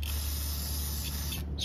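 A close, steady hiss of an aerosol can of carburetor cleaner spraying continuously onto starter motor parts from a Kohler Courage engine, cutting off near the end.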